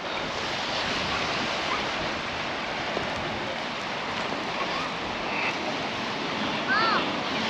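Waves at a beach in Troon in February, a continuous broad wash of surf mixed with wind buffeting the microphone, steady and fairly loud, with faint distant voices.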